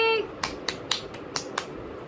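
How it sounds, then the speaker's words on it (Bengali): A clapping sound effect: about six sharp, separate claps spaced unevenly across a couple of seconds, each a crisp snap, following a brief voice at the start. "হাততালি"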